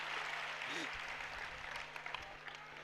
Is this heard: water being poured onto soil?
no